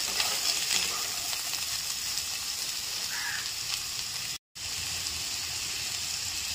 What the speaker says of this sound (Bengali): দিয়ে দেবো হচ্ছে কাটা আলু। একটু নাড়াচাড়া করে নিই।